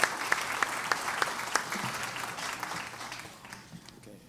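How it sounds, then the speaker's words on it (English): Polite audience applause at a Duluth, Georgia State of the City address award presentation, a steady wash of many hands clapping that rises quickly and slowly thins out over about four seconds. "Polite applause is expected."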